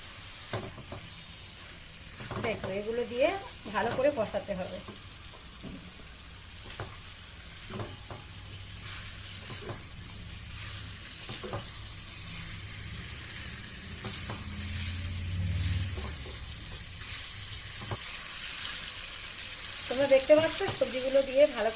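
Fried pointed gourd, potato and pumpkin are tipped into cooked spice paste for a prawn ghonto, sizzling softly with intermittent scraping stirs, and a voice talks at times over it.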